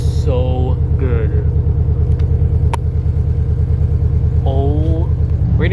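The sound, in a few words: 2022 Subaru BRZ engine with UEL headers after cold start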